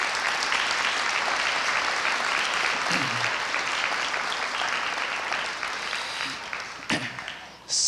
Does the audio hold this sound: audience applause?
yes